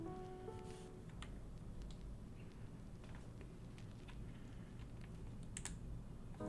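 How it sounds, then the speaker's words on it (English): Rapid, irregular keystrokes on a 60% computer keyboard during a typing test, a steady stream of soft clicks at close range with no talking. "He's about to do the typing test."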